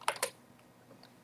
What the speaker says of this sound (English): Let me move my keyboard. Sorry for all the noise.